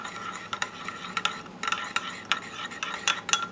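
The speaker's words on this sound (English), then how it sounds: "Sprinkle this 1 envelope of Knox Unflavored Gelatin. And just going to stir around." Unflavored gelatin being stirred into cold water in a bowl with a spoon, giving close, light scraping and clinking taps at an irregular rhythm.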